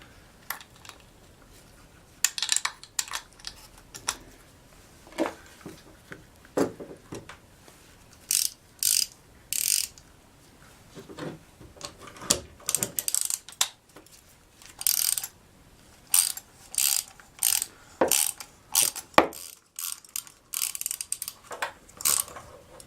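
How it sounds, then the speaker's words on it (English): A ratchet wrench with a 13mm socket works a bolt on a Craftsman snow blower, giving repeated bursts of fast clicking ratchet strokes in short runs with pauses between, close and fairly crisp, with no talking. "So we have a 13mm socket right here."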